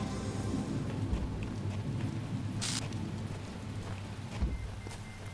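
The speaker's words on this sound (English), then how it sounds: "Getting rainy." Rain in the video game The Talos Principle falls as a steady, moderate patter, with faint low rumbles and a brief hiss partway through, and no speech.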